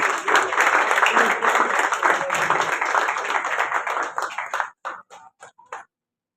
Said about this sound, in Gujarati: તો પ્લીઝ એમના માટે જોરદાર તાળીઓ થઈ જાય